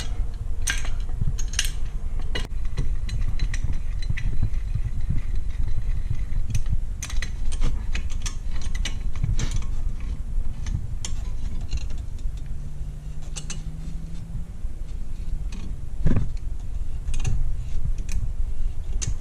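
A clamp slowly presses the front brake caliper piston back into its bore on a Mini Cooper S R53, giving dense metallic ticks, creaks and clicks throughout the work, close up with no voices.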